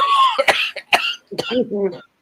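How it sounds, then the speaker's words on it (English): A few harsh coughs close to the mic, mixed with strained vocal sounds and throat noises, ending abruptly. "It hurts to cough."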